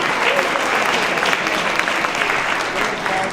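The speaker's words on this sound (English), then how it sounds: "let's give a warm round of applause" Warm round of applause from the audience at a high school town hall event, a dense, even burst of clapping that stays at a steady level from start to finish.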